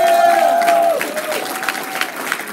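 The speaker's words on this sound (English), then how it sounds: "Give him a round of applause." An awards-show audience at a cannabis cup event breaks into brief applause with a short whistle at the start. The clapping is close and dense, then quickly thins out.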